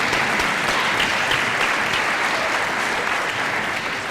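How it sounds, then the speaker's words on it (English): An audience at a university commencement ceremony applauds steadily throughout, a dense, even wash of many hands clapping at moderate loudness with no voices standing out. "you can clap"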